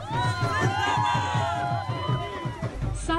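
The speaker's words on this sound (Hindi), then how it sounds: "ढोल की थाप पर तलबा ने बूम बूम के नारे लगाए।" University students in Karachi welcoming former cricket captain Shahid Afridi with a rhythmic dhol drum beat and crowd chanting. Regular thumping beats run under a dense mix of voices and cheering, with a reporter speaking over the scene.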